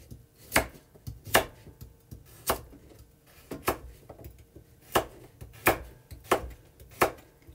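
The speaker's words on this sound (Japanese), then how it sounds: "乱切りです。" A kitchen knife chops vegetables into rough irregular chunks on a cutting board, about a dozen crisp, close knocks at an uneven, unhurried pace with quiet gaps between strokes.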